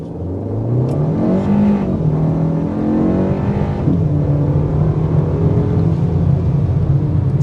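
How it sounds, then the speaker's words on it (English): A 2025 Kia K4 GT-Line Turbo accelerating hard from inside the cabin, the engine note climbing steadily through a gear change and holding a loud, continuous drone with no one speaking. "I am also going to begin this test drive with a hard acceleration."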